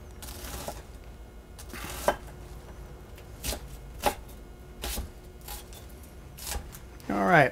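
A knife chops onion and peppers on a cutting board, giving sharp, irregularly spaced thuds close by with pauses between them, and a brief rustle at the end.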